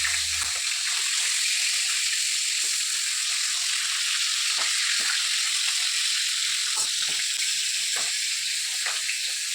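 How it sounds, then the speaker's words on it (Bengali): Fish fries in a pan with a loud, dense, unbroken hiss and occasional sharper crackles and pops, close up and steady throughout with no voices. "মাছ ভাজা একবার হয়ে গেছে, একবার চড়াচ্ছি"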